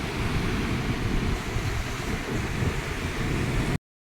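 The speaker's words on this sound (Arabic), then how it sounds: "طب هيطلعوا بسبب الموج العالي جدا" High sea waves roll and crash on a beach in a steady, dense wash of surf mixed with wind buffeting the microphone, continuous until an abrupt cutoff.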